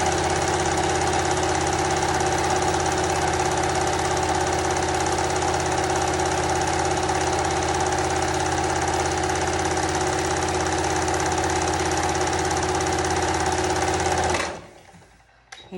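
A sewing machine stitches a scrappy qaspeq fabric pocket, its motor running in one loud, steady, continuous whir for about fourteen seconds before stopping abruptly. No voices are heard.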